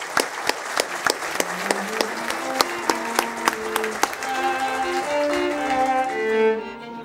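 Applause from a gathered audience at a foundation campaign launch, scattered claps at first swelling into sustained clapping, with a voice and some pitched tones carrying over the end.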